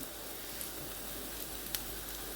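Chicken mince frying in a pan, a soft, steady sizzle with faint crackles and a few light clicks of a utensil, quiet and continuous with no talking.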